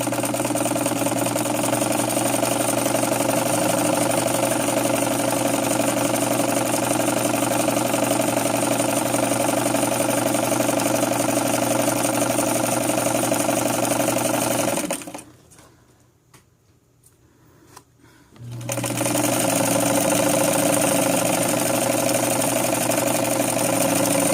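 Sewing machine running a satin stitch for circular embroidery work, a loud steady whirring drone held at even speed, stopping briefly for a few seconds of near silence before starting up again.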